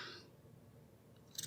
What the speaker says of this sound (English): I'm just going to take some scissors.